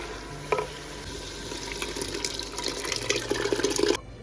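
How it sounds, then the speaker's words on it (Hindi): Lentils go into a bubbling spinach gravy for dal palak, giving a soft splash and then a steady wet sizzle with stirring that continues close up for several seconds before stopping abruptly. "अब मैं इसके अंदर ऐड कर दूंगी दाल"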